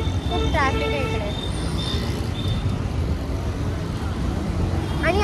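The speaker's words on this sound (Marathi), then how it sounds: "खूप ट्रॅफिक आहे इकडे" Heavy road traffic makes a continuous low rumble of cars and buses, with brief horn-like tones near the start and end, and voices can be heard over it.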